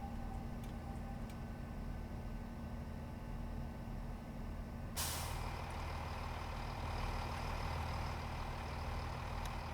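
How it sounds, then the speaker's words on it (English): A Class 166 train braking in Train Simulator, a steady low rumble with a sharp hiss of air brakes cutting in midway and continuing loud to the end, no voices. "there is some braking happening"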